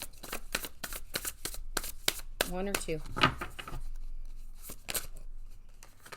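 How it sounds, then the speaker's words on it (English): Quick bursts of tarot card shuffling snap and rustle in a rapid series, with someone speaking briefly in the middle. "they want me to do a quick shuffle"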